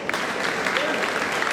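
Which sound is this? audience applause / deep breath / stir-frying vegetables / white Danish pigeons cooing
audience applause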